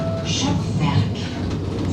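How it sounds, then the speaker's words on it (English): Steady low rumble and rolling hum of a long-distance interurban light rail tram running on rails, heard from inside, with a faint voice speaking over the noise. "it's time to take a ride on the long distance light rail slash tram slash streetcar"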